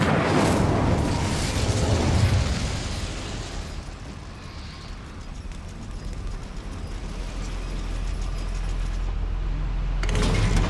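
In the game Hogwarts Legacy, the Incendio fire spell bursts out as a loud, roaring whoosh that fades into a low, steady fiery rumble, with a sharper flare near the end.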